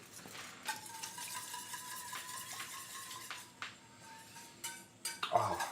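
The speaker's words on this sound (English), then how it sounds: "Give this a stir." Food stirred in a pot in a home kitchen, a spoon scraping and occasionally knocking against the metal with soft irregular clinks over a faint background hum, close and quiet.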